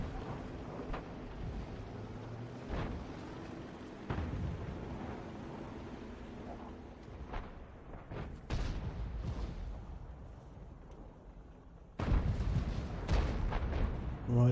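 Distant booming shots from an FV3805 self-propelled artillery gun in a tank video game, faint low thuds and rumbles over a quiet background hum, with a slightly louder burst near the end.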